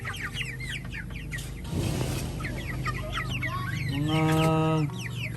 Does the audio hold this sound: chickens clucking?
yes